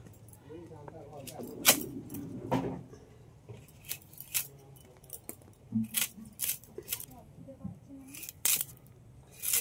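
A knife cuts into a piece of home-grown elephant foot yam with partly rotten patches, giving sharp, scattered cutting clicks and thuds while someone talks quietly nearby.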